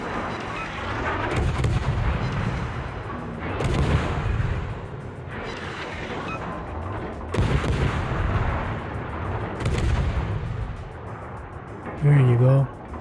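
Naval artillery salvos in World of Warships boom repeatedly, loud heavy blasts arriving in uneven bursts with rumbling tails, while a voice talks over the battle.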